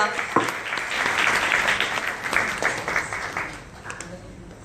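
Audience applause at a women empowerment awards ceremony, a dense steady clatter of many hands that swells, holds and slowly tapers off, with scattered louder claps standing out.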